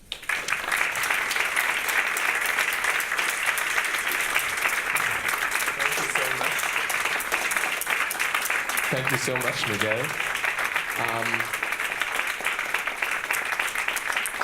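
Sustained, dense audience applause fills a lecture hall for Dr. Miguel Sabido, continuous throughout, with a brief spoken thank-you and a few voices rising over the clapping.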